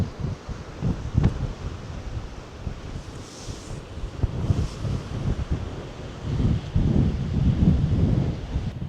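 Strong wind buffets the microphone in a constant roaring rush, swelling in gusts with no one speaking.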